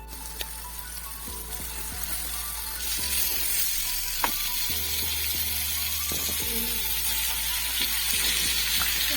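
Diced potatoes sizzle steadily in hot oil with red chili powder for an Assamese rohu fish curry with ridge gourd and tengamora leaves, a constant close frying hiss with a few soft stirring knocks and no talk.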